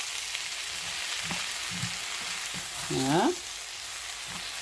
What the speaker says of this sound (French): Je mélange avec l'oignon.